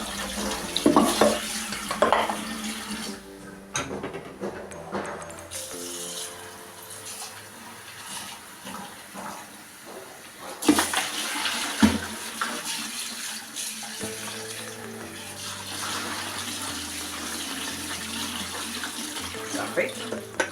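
Cold tap water pouring over freshly cooked pasta in a kitchen, a steady rushing splash with shifting pitch as the stream moves, broken by short clatters of the pot and some background music.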